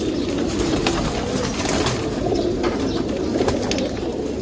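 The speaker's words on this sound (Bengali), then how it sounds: "অনেক কবুতর কবুতরগুলো জাস্ট দেখেন" Many pigeons coo steadily in a crowded loft in Mirpur, their low murmuring calls layered into a continuous close chorus with occasional faint chirps above, and no speech.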